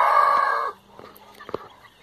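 A rooster at a poultry farm crows loudly and steadily for under a second, then gives way to scattered soft clucks and a few short sharp calls from the flock.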